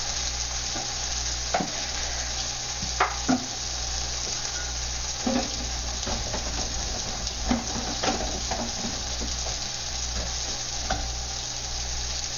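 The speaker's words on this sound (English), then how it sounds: "I'm going to put the chicken in now." Chicken pieces frying in hot oil in a wok, a steady crackling sizzle with occasional sharper pops, close and continuous throughout with a low hum underneath.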